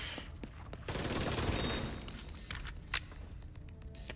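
Video game gunfire crackles in a dense burst of rapid shots, then thins out into scattered single shots and sharp cracks, fairly quiet, with a brief louder pop near the end.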